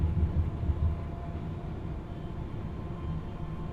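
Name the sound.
1980s train engine running, from the video game Train Simulator 2020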